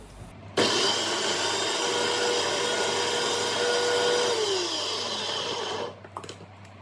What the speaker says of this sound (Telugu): ఇప్పుడు మిక్సీ పెడదాము